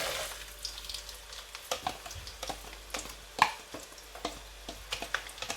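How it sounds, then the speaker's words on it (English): Chopped onion frying in hot oil for egusi soup, a close crackling sizzle broken by sharp irregular pops and stirring scrapes, with no voices. "I'm going to leave it to fry for about 3 minutes"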